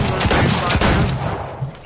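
Rapid automatic gunfire from a shooter video game crackles in a dense volley up close, tapering off after about a second into sparser shots.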